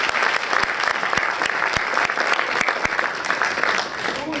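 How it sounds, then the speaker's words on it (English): Audience applause fills a debating chamber at the York Union before a speech, a dense continuous patter with a few louder individual claps standing out, held steadily throughout. "It's always worrying when people clap before they've heard you."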